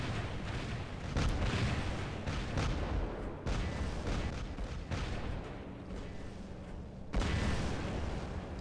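Aphid missile launchers firing in the War Robots game: a continuous roar of rapid rocket blasts and explosions, loud and dense throughout, with bursts swelling and cutting out in waves.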